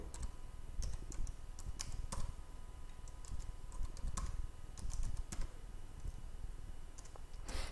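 Rapid, uneven keystrokes on a computer keyboard, with clustered clicks and brief pauses as someone types commands during data science software setup, close and clear over a low steady background hum, no voices.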